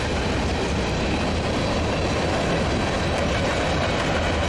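A CSX freight train with a red caboose rumbles past continuously, with a dense, steady roar of wheels and rail noise close by and no pauses.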